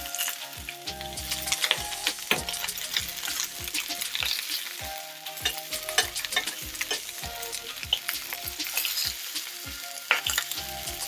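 Oxtail pieces sear in a smoking-hot pan, a loud, dense, continuous sizzle and crackle with frequent spitting pops and occasional utensil knocks, close up and without talking.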